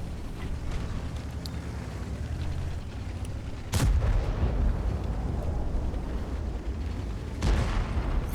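Tank cannon fire in the World of Tanks video game, with a tier 8 premium Japanese tank in play: two heavy booming shots several seconds apart over a constant low battle rumble.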